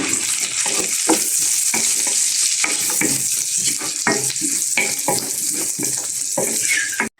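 Carrots frying in a pan for bangus steak, loud steady sizzling with repeated scraping stir strokes throughout, close and continuous without talk.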